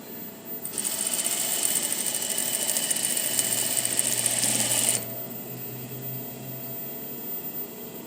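A sewing machine runs steadily for about four seconds with a fast, even mechanical whir as it stitches a skirt seam, then stops abruptly, leaving a quiet room with a faint low hum.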